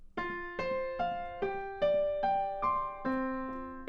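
Right-hand piano pattern from a song, played as one fluid line: nine evenly spaced struck notes with ringing overtones, each decaying into the next, close and clear with no talking.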